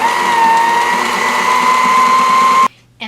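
A sewing machine stitching welt cord with a specialized presser foot runs in a steady, loud mechanical whir for a few seconds, then stops abruptly.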